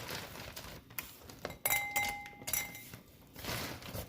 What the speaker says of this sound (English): I'm going to add a few ice cubes.